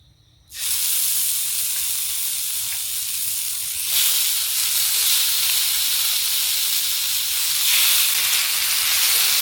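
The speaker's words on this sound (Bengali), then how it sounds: "ফ্রাই প্যানটা হিট হয়ে গেলে প্রথমে মুরগির গিলাগুলো ছাড়বেন" Chicken gizzards sizzle steadily in a hot frying pan, a loud continuous hiss that starts abruptly after a brief quiet moment and swells slightly twice, with no talking.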